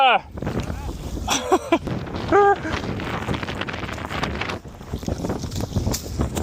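Gusty wind rumbles and buffets the microphone while people talk and call out over it.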